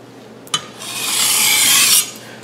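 A Chinese vegetable cleaver (cai dao) is drawn across a whetstone in one smooth, gritty grinding stroke lasting over a second, preceded by a brief click of contact, close and clear with no talking.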